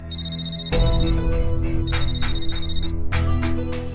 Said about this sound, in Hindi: मेरे बॉस का फोन आ रहा है, मुझे जाना होगा।